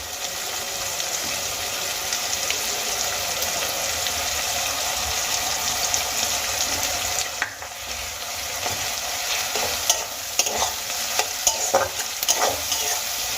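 Ginger paste and chopped onion fry in hot oil with a loud, steady sizzle, while a spoon scrapes and stirs through the pan in a few knocking strokes near the end.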